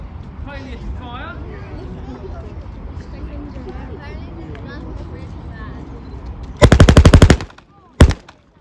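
Loud machine gun bursts fire at a military history event: a dense rapid burst of about a second, then a short second burst, following a stretch of crowd chatter and talk.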